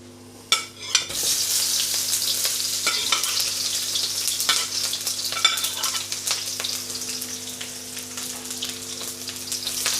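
Onions dropped into a hot wok for chicken chow mein, starting with a sudden loud sizzle that settles into a steady, crackling fry with occasional stirring scrapes, and no voices.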